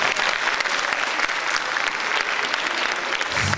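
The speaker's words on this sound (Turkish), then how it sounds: "Kızlarımıza özel bir alkış istiyorum." An audience at an official gathering claps for the girls, a loud, even burst of applause from a large crowd that stays steady throughout.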